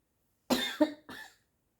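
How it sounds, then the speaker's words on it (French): A single short cough bursts out twice in quick succession, close and fairly quiet, with silence before and after. "Je tousse seulement parce que je bois pas assez d'eau."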